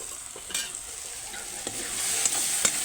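Tomatoes cooking in a pan, making a steady close sizzle with occasional stirring scrapes and small pops, no talking.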